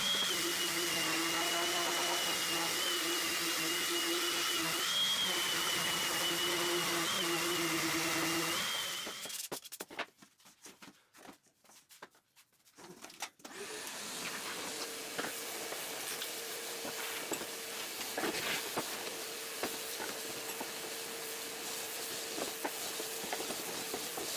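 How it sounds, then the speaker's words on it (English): A 2x4 wooden plant stand frame being sanded gives a steady, loud broadband rasp that runs continuously, breaks off briefly partway through, then resumes and carries on to the end. "Sand the whole frame too."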